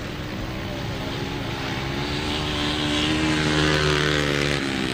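Grasstrack racing motorcycles rev hard and accelerate as throttles open, a loud, sustained engine drone that rises in pitch and volume over a few seconds.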